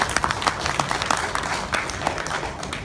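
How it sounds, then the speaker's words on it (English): Applause at a company annual dinner for the shareholder and director, Mr. Shua, and his wife: a short, steady spell of many hands clapping at moderate loudness, with a few sharper claps standing out and no talking. "Please give a big applause"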